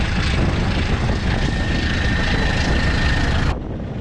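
A Class 1400 diesel locomotive works hard as it climbs an incline on the Douro Valley line. It makes a loud, dense, continuous engine roar that drops away abruptly near the end.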